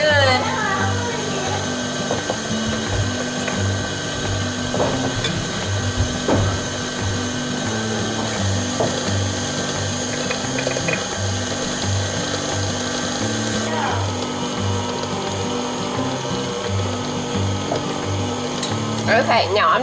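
A stand mixer kneads bread dough in a home kitchen, its motor whirring steadily and loudly with a rhythmic gear-like chugging throughout, while a person talks over it at times.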